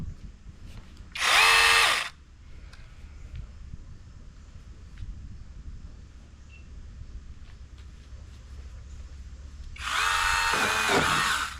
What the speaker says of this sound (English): we got the chainsaw attached now to the pole